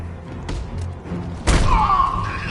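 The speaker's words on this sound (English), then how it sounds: "He's using some kind of smoke grenade." A smoke grenade in a military shooter game lands with a heavy thud over a low, rumbling background, followed by a rising hiss of gas venting as the canister goes off.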